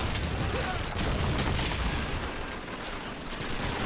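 Call of Duty 2 battle audio plays a grenade blast and rolling gunfire in a Second World War firefight, with dense, loud, continuous crackling and booms.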